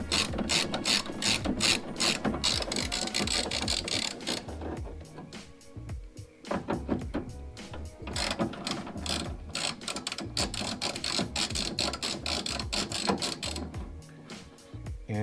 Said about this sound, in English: you're gonna just want to remove these bolts to release your mirror, to release your window